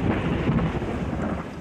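Thunder rolls during an electric thunderstorm, a dense, continuous rumbling roar with rain-like hiss, loud and steady throughout with no voices.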